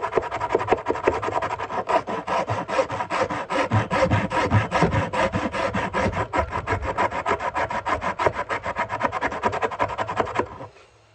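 A steel rasp files steadily at wood while testing a Camillus Swedge knife outdoors, giving a dense, continuous scraping rub in quick regular strokes that runs close and loud for about ten seconds before stopping abruptly.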